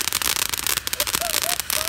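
Fireworks go off outdoors as a dense run of loud crackling bursts, with rising whistling tones near the end and a crowd's voices mixed in.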